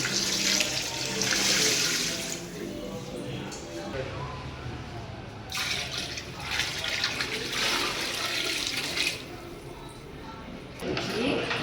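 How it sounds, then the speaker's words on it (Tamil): Water pours steadily into a large pot for chicken biryani, about six litres added in a continuous rushing, splashing stream that surges and eases in waves, close and fairly loud. "ஒரு ஆறு லிட்டர் தண்ணி இதில் சேர்த்து போனோம்"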